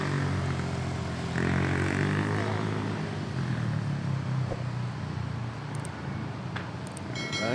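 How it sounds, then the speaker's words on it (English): Singapore Airlines Airbus A350 on its takeoff roll and rotation on runway 31 at Manila airport, a loud continuous jet roar with a low rumble that holds steady and builds in tone throughout, with faint clicks near the end. "Here we go, Singapore Airlines A350K, is early rotate."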